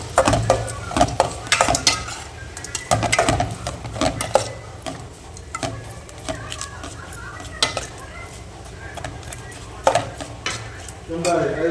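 Potato and chicken curry being stirred in a pot: a spoon scrapes and knocks against the pot in irregular bursts over a low sizzle, close and fairly loud, with a little talk faintly under it.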